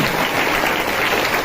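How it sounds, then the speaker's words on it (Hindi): Dense, steady clapping from a church congregation giving thanks to the Lord during a Hindi sermon, loud and continuous with no voices over it. "जोरदार ताली बजा के प्रभु का धन्यवाद करते हैं।"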